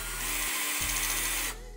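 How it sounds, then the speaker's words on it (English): A power drill whirs steadily at close range, driving a homemade nail-puller claw in forward, its motor pitch dipping briefly under load before winding down. "if you put the drill on there, put it in forward speed,"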